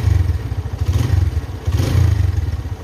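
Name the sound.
2008 Honda Tiger motorcycle engine revving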